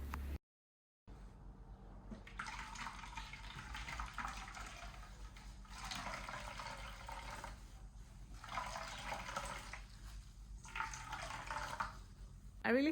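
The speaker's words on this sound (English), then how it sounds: "I'll squeeze this to extract every drop of coconut milk in it." Blended coconut is wrung through cheesecloth to extract coconut milk, giving faint liquid splashing and trickling in several surging bursts as the cloth is squeezed.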